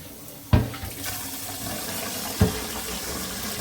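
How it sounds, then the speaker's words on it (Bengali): Rice being washed in water for a rice cooker, with continuous close sloshing and running water and two sharp knocks, and no speech. "তো এই জন্য চালটা আমি ধুয়ে নিচ্ছি"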